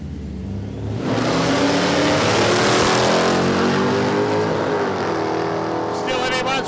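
At a drag strip at Palmyra Raceway, a Crown Victoria with a turbocharged LS engine launches and roars at full throttle in a loud, sustained drone, with a commentator talking over it.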